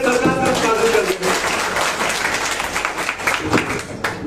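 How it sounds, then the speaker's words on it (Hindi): Crowd applause from an audience at a speech, welcoming the government, a dense steady wash of many hands clapping at once, loud and continuous, with speech mixed in. "तो एक बार जोरदार तालियां बजाकर सरकार का स्वागत कर देंगे"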